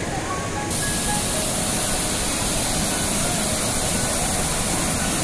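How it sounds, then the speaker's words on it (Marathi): A waterfall rushes near a temple, a loud, continuous broadband roar filling the whole stretch with no letup, heard close by and alone. "हा हे धबधबा."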